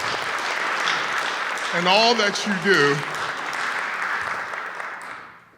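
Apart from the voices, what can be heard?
audience applause for Matthew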